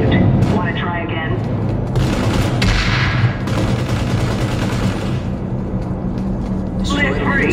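A frag grenade explosion in a multiplayer war shooter rings out over continuous gunfire and battle noise, with voices talking throughout.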